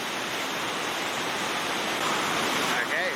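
Steady, close roar of churning whitewater at Gap Falls, a class 4 rapid where the river spills over river left into a hole, with a brief faint squeak near the end.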